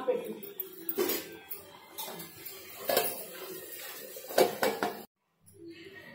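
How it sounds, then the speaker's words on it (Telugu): A metal lid is set onto a cooking pot with several clanking knocks and rattles spread across a few seconds. Voices murmur in the background, and the sound cuts briefly to silence near the end. "మూత పెట్టాలి అత్తమ్మ"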